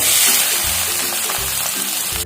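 Finely chopped big onion sizzles in hot oil in a pan for a prawn fry, a loud, steady frying hiss with soft stirring scrapes throughout.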